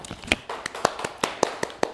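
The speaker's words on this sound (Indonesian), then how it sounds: "Tepuk tangan untuk kelompok 3." Classroom applause for a group of students during a microteaching session: a small, sparse round of hand claps, close and irregular, about a dozen sharp claps with no talk.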